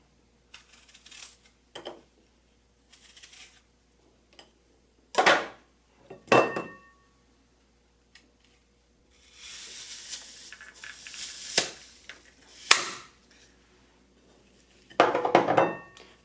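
A NutriChopper cuts thin slices of food with its bottom and top blades. Sharp clacks and scraping come in a few irregular bursts separated by quiet gaps, including one longer rasping stretch. The sounds are close and fairly loud, with no talking.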